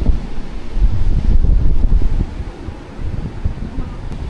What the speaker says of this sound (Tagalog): Ang ginaw, ang lakas ng hangin, Maring.